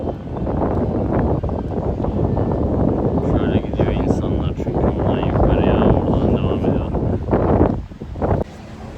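Strong wind buffets the microphone in a loud, steady roar near the king's tombs in Amasya, with faint voices and rustling mixed in.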